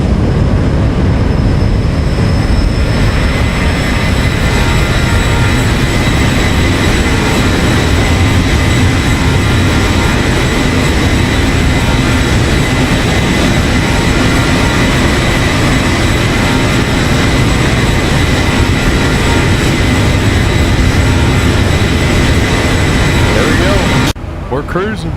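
Boeing 737 jet engines in X-Plane 12 drone steadily through a climb out of KPIT, a loud continuous roar lasting about 24 seconds before cutting off abruptly.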